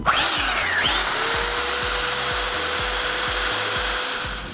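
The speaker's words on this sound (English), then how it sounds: "I'm gonna use the belt sander" Belt sander running continuously on a wooden entertainment center cabinet being refinished, a steady loud motor whine with abrasive grinding after a quick spin-up, close and without talk.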